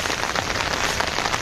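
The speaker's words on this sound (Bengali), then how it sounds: "ফোটা ফোটা ফোটা ফোটা ঝিরঝির ঝিরঝির করে বৃষ্টি মনে হচ্ছে" Light drizzle falls steadily on a village home, a soft continuous patter of fine drops with no pauses, fairly close and even throughout.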